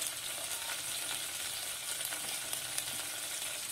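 Curry leaves and mint frying in oil for tomato chutney, giving a soft, continuous sizzle and crackle with faint scattered pops, fairly quiet and with no talk.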